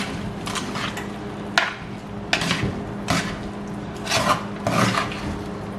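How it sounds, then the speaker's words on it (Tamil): Mutton mixture being stirred in a cooking pot after the lid comes off: a few irregular metallic clinks and scrapes of a spoon against the pot over a steady low background hum, with no talking. "திறந்துட்டு ஒருக்கா மிக்ஸ் பண்ணி விடுங்க."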